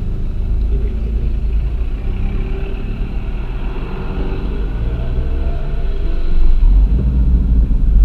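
A car rolls over a rough, bumpy street in Dublin, a steady low engine-and-road rumble heard from inside the cabin, loud and continuous throughout.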